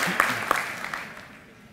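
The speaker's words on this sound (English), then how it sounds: "another big round of applause for our exceptional cadets today" Applause from the crowd at a Houston Police Department cadet graduation ceremony, a short burst of broadband clapping that fades out over about two seconds, with no talking.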